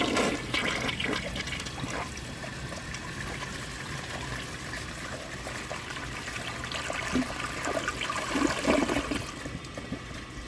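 A 1991 Kohler Wellworth toilet flushes close by, a steady loud rush and gurgle of water running for about ten seconds with no pause.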